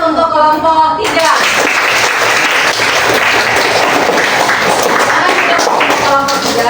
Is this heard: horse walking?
no